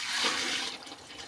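A creamy liquid mixture is poured into a mold in a workshed, giving a short, soft, rushing liquid pour that fades after about a second.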